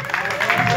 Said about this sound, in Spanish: un aplauso para nuestro padre